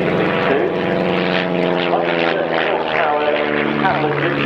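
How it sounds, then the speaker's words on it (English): A vintage aircraft powered by a four-cylinder inline engine flies past at an air pageant in Shuttleworth, its steady propeller drone loud and continuous throughout, with an announcer talking over it. "Major 4-cylinder inline engine up front, giving a top speed of about 112 miles an hour."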